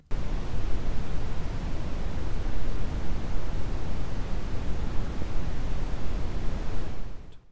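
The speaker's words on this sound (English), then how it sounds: "We've got a new contender in the noise arena, brown noise." Steady brown noise, broadband with a deep, rumbling low end, constant and unchanging throughout before cutting off abruptly at the end.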